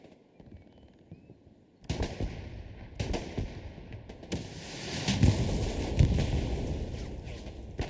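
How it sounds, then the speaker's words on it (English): A rocket strike explodes in the World War II shooter Hell Let Loose during a competitive match, with a heavy blast followed by several more sharp booms and a sustained rumbling roar of battle over steady background hiss. "Markov with another rocket coming in"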